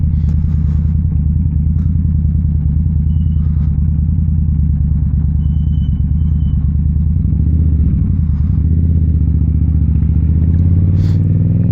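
A 2017 Indian Scout motorcycle, freshly serviced, idles with a deep, loud, steady rumble and a faint mechanical clatter, rising a little near the end, with no one speaking.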